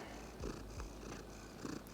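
Cat purring close by, a soft steady low rumble across the whole two seconds, with a few slightly louder swells, heard alone without talk.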